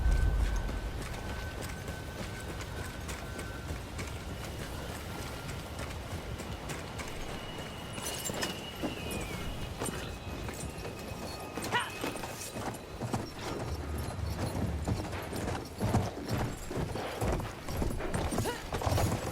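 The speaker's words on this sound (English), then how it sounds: "I'm gonna need to take that horse." Horse hooves clip-clop steadily through a Battlefield game scene, a close, continuous galloping rhythm with a brief whinny, set against dense battle noise and wind.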